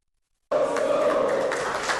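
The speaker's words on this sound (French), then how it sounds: "Sous des applaudissements célébrant le retour à la maison de 17 personnes présentées comme des séparatistes ayant capitulé" A crowd cheers and claps at a homecoming welcome for surrendered separatist fighters, a steady dense wash of applause and voices that starts abruptly and holds at moderate loudness.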